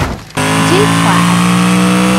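A Mercedes G-Class in a driving game gives a loud, steady engine hum with stacked tonal harmonics, starting abruptly after a brief quieter moment and holding to the end.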